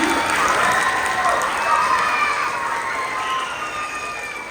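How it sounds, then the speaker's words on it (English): A school audience applauds and cheers loudly and continuously, with children shouting amid the dense clapping crowd noise. "let's hear a round of applause for them"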